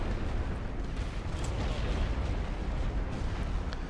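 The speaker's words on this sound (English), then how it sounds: "Let's see if I can get my tank firing on this enemy." Tank cannon fire and battlefield rumble in the strategy game The Great War: Western Front, a steady dense roar of low booms and blasts that stays loud throughout, with no voices.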